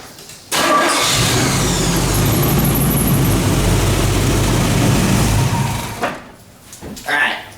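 A 1978 Chevy square-body truck engine cranks and catches, then runs with a steady low rumble for several seconds before cutting off, followed by a couple of brief knocks.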